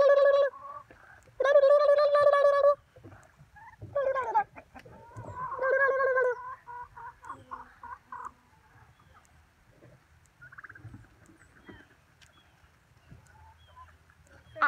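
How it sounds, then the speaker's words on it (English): Guinea fowl calling outdoors: loud, harsh, repeated squawking bursts near the start, then scattered fainter calls and soft background noise, with no clear talking. "Look at those guineas. Beautiful chickies."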